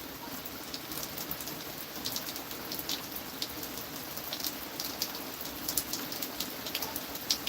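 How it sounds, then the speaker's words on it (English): Steady rain falls outdoors at night, a dense, even hiss of drops with scattered sharper patters close by, no voices. "Just out here enjoying the rain."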